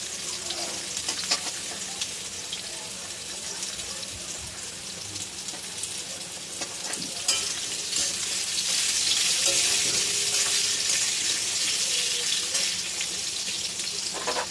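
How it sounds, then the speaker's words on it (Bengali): Dried red chillies and whole cumin seeds sizzle and crackle in hot oil, tempering for a fish and cauliflower curry, with steady frying hiss, occasional stirring taps, and the sizzle swelling louder midway. "এবার আমি শুকনো লঙ্কা আর গোটা জিরেটা দিয়ে দেব, এই তেলের মধ্যেই দেব।"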